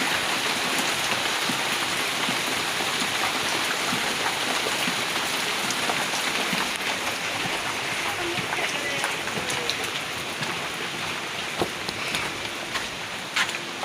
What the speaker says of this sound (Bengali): কঠিন বৃষ্টি নামতেছে, বৃষ্টির জন্য আমরা কাজও করতে পারতেছি।